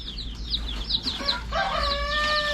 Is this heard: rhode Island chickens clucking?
yes